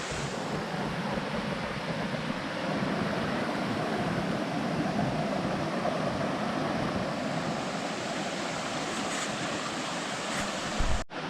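Stream water from Hasanboğuldu pouring steadily near a waterfall in the Kazdağları mountains, a dense continuous rushing roar with a little wind buffeting, loud and unbroken throughout.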